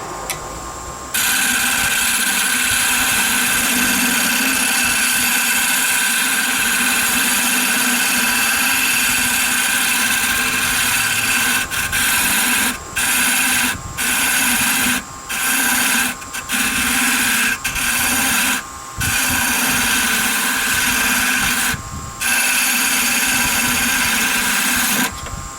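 A wood lathe turns a two-piece wooden spinning top while a half-inch round nose gouge cuts the end down, a loud steady whirring drone with brief gaps where the tool lifts off.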